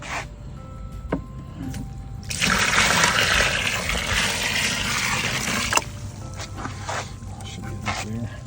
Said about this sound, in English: So we're going to add the water.